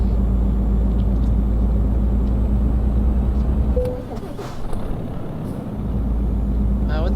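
Heavy truck engine in Euro Truck Simulator, a steady low rumbling drone that cuts out abruptly partway through, leaving a brief dip before the engine hum returns, with a short tonal beep near the break.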